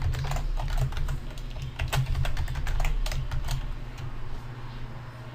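Someone types a password on a computer keyboard, a run of quick, irregular key clicks over a steady low fan hum, close and moderately quiet with no speech.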